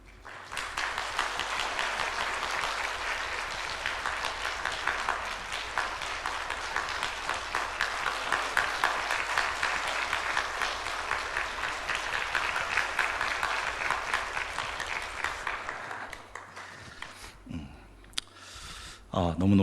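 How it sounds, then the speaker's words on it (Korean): Long, steady applause from a church congregation during a Sunday service as gifts are presented to elders, continuous clapping that tapers off near the end into shuffling and faint sounds. "이렇게 전달할 때 큰 박수 부탁드리겠습니다"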